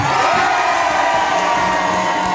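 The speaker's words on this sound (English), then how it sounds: "Let's give a great cheer from Dublin to Washington for President Donald J. Trump." A large outdoor crowd at a political rally outside the Custom House in Dublin cheers and roars in a steady, loud, continuous wash of voices.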